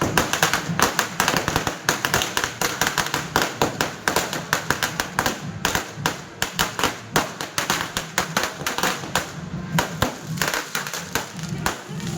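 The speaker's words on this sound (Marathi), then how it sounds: "त्याच्यानंतर मग बाप्पासाठी छान मस्त फटाके फोडले बाप्पांचं." Firecrackers bursting for a Ganpati festival celebration, a rapid irregular string of sharp loud cracks and pops that continues without pause for over ten seconds.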